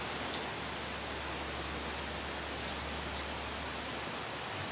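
Steady heavy rain falls at an abandoned bungalow, a dense continuous hiss with no voices, loud and even throughout.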